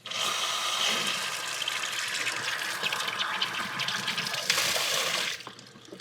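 Water runs steadily from an outdoor spigot into a small container for testing, a continuous close, loud gush with a brighter filling tone near the end before the flow cuts off.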